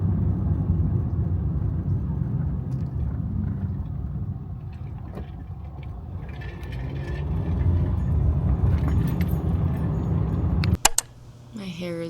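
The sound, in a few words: car driving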